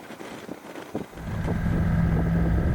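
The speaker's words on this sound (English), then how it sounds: "Windy today." Wind buffets the microphone while riding a Honda motorcycle on a road in Utah, loud and constant, with a steady low engine drone rising after the first second and no speech.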